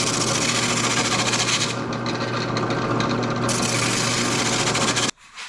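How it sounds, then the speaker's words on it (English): A drum sander mounted on a drill press rounds the corners of large reclaimed-wood dice, giving a steady, loud abrasive rasp with a constant motor hum that cuts off abruptly near the end. "smooth off the corners, round them off a little bit with the drum sander"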